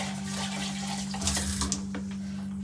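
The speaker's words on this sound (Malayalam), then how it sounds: "ഇനി നമുക്ക് കുറച്ച് നല്ലോണം വെള്ളം ഒഴിച്ച് ഇതൊന്ന് മിക്സ് ചെയ്യാം" Water is poured into a pot of Kerala-style varutharacha sambar after the ground paste goes in, a steady splashing pour under a constant low electrical hum, with a brief louder gush midway.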